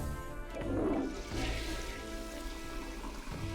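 A toilet flushes in the video game Metaphor ReFantazio, a rushing swirl of water that swells early, then settles into a steady, faint watery wash with a small click near the end.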